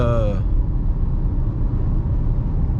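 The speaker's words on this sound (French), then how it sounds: "un V8 comme ça, juste pour le bruit, t'as envie d'appuyer, quoi, monter dans les tours" A 2009 Cadillac STS with a 4.6-litre 325-horsepower V8 rumbles from inside the cabin, a deep, loud, steady low drone, briefly under a voice at the start.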